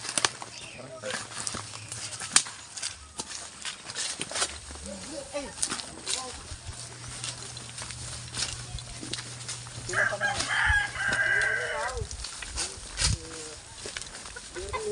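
Roosters crow and hens cluck around a farmyard, while people talk nearby over the birds.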